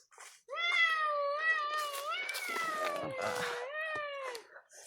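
A cat gives a loud, drawn-out string of wavering meows and yowls close up, several calls running together over about four seconds with no talk.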